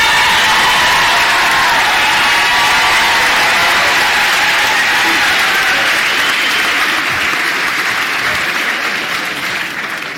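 An audience at an athletics awards night ceremony breaks into sustained applause, a dense, loud wash of clapping that holds for several seconds and slowly thins toward the end.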